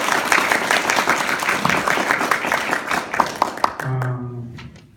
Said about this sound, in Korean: 자, 뜨거운 박수로 다시 시작하겠습니다.